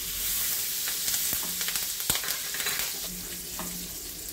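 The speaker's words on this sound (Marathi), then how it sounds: "आपलं तेल तापलेलं आहे, आपण हे टाकूया मोहरी आणि हिंग" Mustard seeds, asafoetida and green chillies fry in hot oil for a stuffed capsicum dish, giving a steady close sizzle with scattered pops and crackles.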